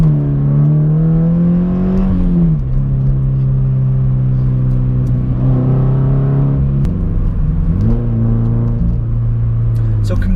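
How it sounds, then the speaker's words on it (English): A Subaru BRZ fitted with Eibach lowering springs accelerates hard on a flat road, its engine note rising through the gears with two clear shift dips, loud and close from the cabin without any talking. "Give you guys a quick acceleration here."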